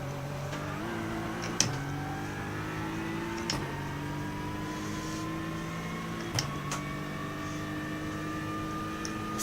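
A Lexus race car engine in the video game Le Mans Ultimate drones steadily at high revs, pitch climbing through gear changes with brief shifts and small clicks, continuous and close throughout.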